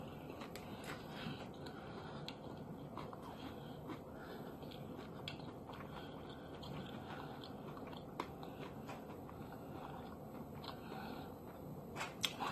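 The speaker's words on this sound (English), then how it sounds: "When you take a big bite, that's the long it takes to chew." Someone chews a big mouthful of chicken and potatoes, with soft, wet mastication and occasional crunchy bites running steadily and close up, no talking.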